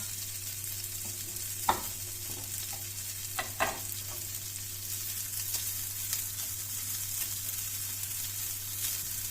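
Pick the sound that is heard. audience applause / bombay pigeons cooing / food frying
food frying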